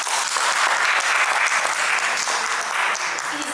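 A crowd at a wedding court session claps in a loud, dense, continuous round of applause that holds steady throughout, with a few voices faintly mixed in.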